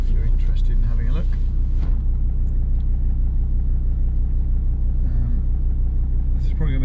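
A car driving through the French city of Grenoble, a steady low engine and road rumble throughout, with someone talking over it at the start and again at the end.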